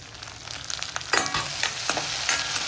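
Onions sizzle and fry steadily in a pan on a home stove, with louder crackling bursts as tomatoes go into the pan, close and continuous with no talking.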